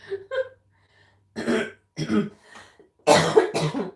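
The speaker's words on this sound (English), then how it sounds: "Let me go cough, you know?" A few close, raspy coughs and throat clears come in separate bursts with short pauses, ending in two louder coughs back to back.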